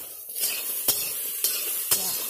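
Taro and potatoes fry in a pan with a steady sizzle, as a spatula stirs them with three sharp scraping clinks, close and alone with no talk.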